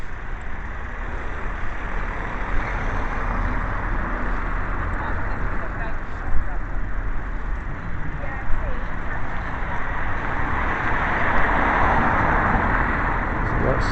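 Steady road traffic roars outdoors, with a car driving past somewhere in the distance blended into a continuous wash of engine and tire noise that swells slightly toward the end.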